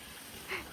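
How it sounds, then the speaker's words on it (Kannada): A dog lets out one brief, faint whimper or yip, a soft cry lasting under a second, with no talking. "ಇದೊಂದು ನಾಯಿ"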